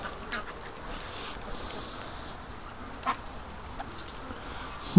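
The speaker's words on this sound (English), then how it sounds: "All those little duckies going right for the food here." Several ducks walking toward food and quacking softly in scattered calls over a steady outdoor background hiss, fairly faint and unhurried.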